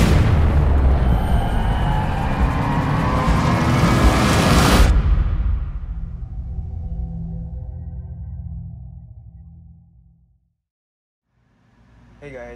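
Magic Whip firecracker strip from Mad Hornet Fireworks going off outdoors: a dense, continuous crackling barrage of tiny pops lasting about five seconds, then a fading rumble and near silence.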